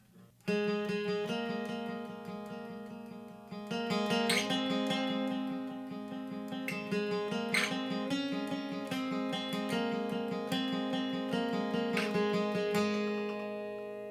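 Acoustic guitar plays a bright, quick riff of steady sixteenth notes, ringing open strings alternating with fretted notes, clear and close with no voices.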